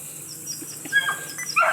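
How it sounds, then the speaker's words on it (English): Faint high-pitched whines and yips from puppies, short and intermittent against a quiet background. "They want to bark so bad."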